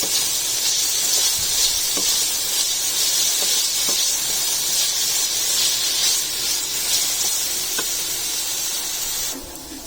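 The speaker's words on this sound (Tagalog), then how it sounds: "Iprito muna natin yung patatas." Potatoes fry in hot oil for pork giniling, a steady loud broadband sizzle that holds evenly throughout with faint pops scattered in, then cuts off abruptly at the very end.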